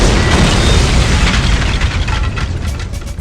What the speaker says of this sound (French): Pourquoi une explosion? Je ne savais pas trop quel effet mettre en fait.